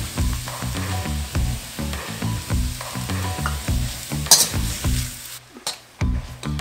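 Chicken fried rice being stir-fried in a fairly new carbon steel wok over medium-high heat, with a steady sizzle and repeated rhythmic scraping and tossing strokes of the spatula, close and continuous.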